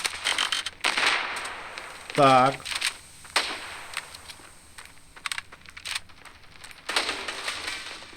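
Sharp gunshot bursts from the mobile shooter game Standoff 2, scattered single cracks and short volleys at moderate loudness, with a brief spoken word and game effects in between.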